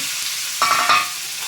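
Chicken pieces tipped into marinated masala in a hot pan for chicken sukka, a brief burst of sizzling and stirring that swells for under a second over a steady background hiss, with no talking.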